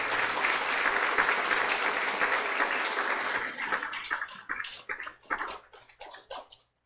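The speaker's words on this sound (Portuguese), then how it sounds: "a comunidade vai saudar vocês com uma salva de palmas" A church congregation gives a welcoming round of applause during a service, dense and loud at first, then thinning into scattered individual claps that fade out over several seconds.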